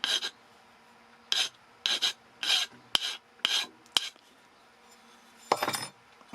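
Hand file rasping across cast aluminum in a series of short, separate strokes, each a bright scraping burst with quiet gaps between, close and alone.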